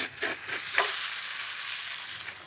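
Vegetables, garlic and tomato paste hit a hot pan and sizzle in a steady, close hiss, with a few stirring scrapes at the start and no one talking.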